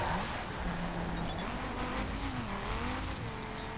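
A Ford Focus RS in rally/raid spec races along a track in The Crew, with a steady engine roar, shifting pitch and faint tire squeal throughout.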